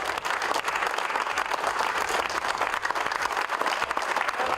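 Migrant workers at a shelter clap together to cheer on a pregnant woman, a steady mid-level patter of many hands continuing without pause.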